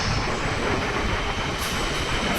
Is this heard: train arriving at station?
yes